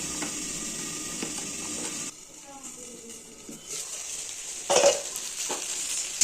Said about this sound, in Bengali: ভেন্ডিটা আবার নাড়াচাড়া করে দিই